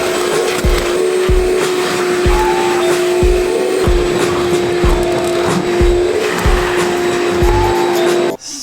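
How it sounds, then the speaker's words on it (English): Vacuum cleaner sucking debris from a Chevy Colorado pickup bed, a loud steady whine near at hand with repeated knocking thumps as the nozzle moves, cutting off at the end. "Now what I'm gonna do, I'm just gonna vacuum it."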